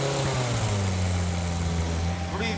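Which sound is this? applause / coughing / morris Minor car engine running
morris Minor car engine running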